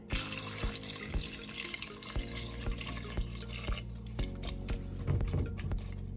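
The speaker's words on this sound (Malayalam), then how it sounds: "കഷ്ണത്തിനകത്തോട്ട് നമ്മൾ ആവശ്യത്തിന് വെള്ളം ഒഴിക്കുകയാണേ" Water poured over cut vegetable pieces for sambar, a continuous close splashing stream with small spattering hits throughout.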